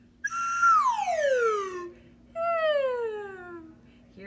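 Voices imitate a slide whistle during a music class warm-up. There are two clear whistle-like glides, each sweeping up briefly and then sliding smoothly all the way down, with a short gap between them.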